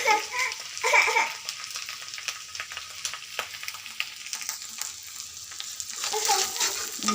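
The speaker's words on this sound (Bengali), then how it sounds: "আপার জন্য ভাত ভাজতেছি" Rice and egg frying together in a hot pan give a crackling, spitting sizzle, with bursts of scraping and stirring. Faint voices come and go in the background.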